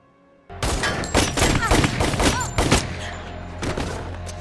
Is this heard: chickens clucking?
no